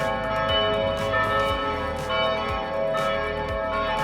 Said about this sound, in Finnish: Kirkonkellot soi.